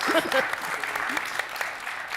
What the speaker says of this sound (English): If you guys don't mind giving her a round of applause